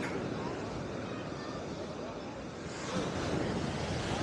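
Continuous roaring surf breaking at Surfside Beach pier, with wind buffeting the microphone, a broad steady wash that swells slightly louder toward the end.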